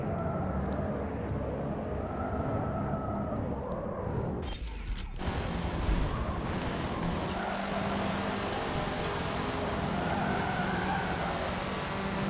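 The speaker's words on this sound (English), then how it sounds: "No, stop spinning out." A car in Forza Motorsport 7 skids and spins out during a showroom rally race, with continuous tire squeal and scrabbling over a loud engine drone, a brief sharp crunch partway through, and no talking.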